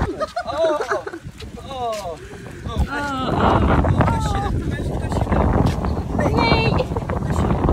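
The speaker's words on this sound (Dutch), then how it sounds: "Het staat vandaag best wel veel wind, dus ik hoop dat jullie me horen." Strong wind buffeting the microphone outdoors on a family holiday in Marbella, a loud low roar that swells and stays heavy through the second half, with people talking over it.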